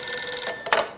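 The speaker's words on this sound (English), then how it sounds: "Detective Winterson's phone." A telephone rings in the video game Max Payne 2, a brief electronic bell tone heard alone and fairly close.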